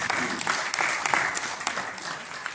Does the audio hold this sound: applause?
yes